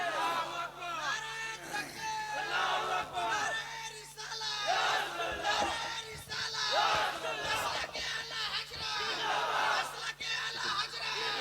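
A large crowd at a Muslim religious gathering shouts in unison in answer to a takbir call, with repeated swelling bursts of massed voices that rise and fall steadily throughout, loud and continuous with no break.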